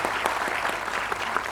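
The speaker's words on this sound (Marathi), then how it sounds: "या कलाकारांसाठी जोरदार टाळ्या," Audience applause for folk musicians at a film trailer launch event, a steady patter of many hands clapping at moderate volume with a few sharper claps standing out, no voices.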